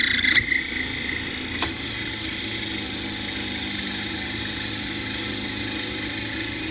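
A pen blank being drilled on a generic lathe with a short quill gives a steady, loud mechanical whine that runs continuously after a couple of brief knocks near the start, with no talking.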